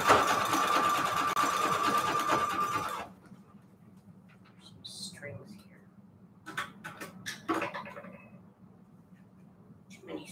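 Sewing machine stitching fabric for a patchwork junk journal cover, running in a fast steady whir for about three seconds before stopping, followed by quiet room noise with scattered clicks and light handling sounds.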